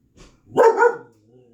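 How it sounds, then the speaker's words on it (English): A puppy lets out a single short bark, loud and close, with a faint yip just before it in an otherwise quiet room. "I got my puppy in here with me"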